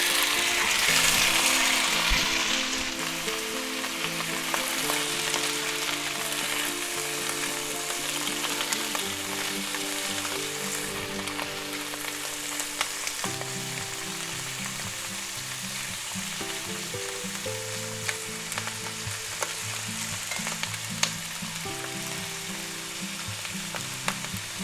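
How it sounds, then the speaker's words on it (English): Mushrooms and vegetables sizzle steadily in hot oil in a pan, a loud, continuous frying hiss that flares as they go in, with occasional clinks of a utensil underneath. "We're going to go ahead and take our mushrooms and we're going to put them right in there."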